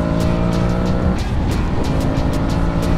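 A car passes close on a road during a motorcycle's overtaking manoeuvre, a loud continuous roar of engine and tyres swelling and filling the short stretch.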